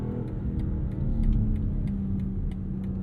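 2022 BMW X3 M40i inline-six engine pulling hard on snow tires, a deep, steady rumbling roar building in intensity, close and continuous with no talking.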